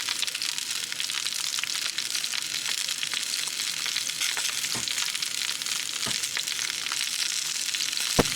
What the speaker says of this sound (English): let's fry them up, see what they're like.